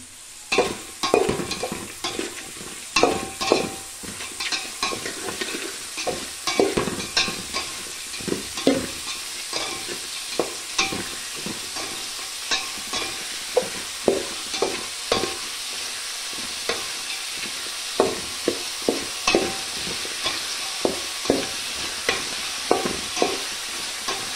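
Ingredients for palav fry in hot oil after salt goes in, with a steady close sizzle under repeated sharp clinks and scrapes of a spoon stirring the pan, and no talking.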